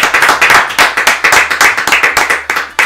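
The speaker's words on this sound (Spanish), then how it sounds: "Un aplauso para Nayer Rodríguez" A small group claps for a contest winner, a quick run of close, distinct handclaps with a loose, uneven rhythm, fairly loud and with no voices over it.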